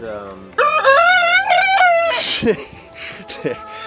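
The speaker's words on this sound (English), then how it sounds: "so that sound there was actually that's Big Bird there. He's a Buff Orpington" A Buff Orpington rooster crows loudly nearby, one long wavering call, followed by softer clucking and a brief bark-like sound.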